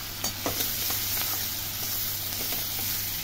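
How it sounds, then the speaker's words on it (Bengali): Chopped onion dropped into melted butter in a pan for a vegetable soup, a continuous close hiss of frying with a few soft stirring knocks early on. "বাটারটা একদম মেল্ট হয়ে গেছে, এর মধ্যে আমি দিয়ে দিচ্ছি পেঁয়াজ কুচি"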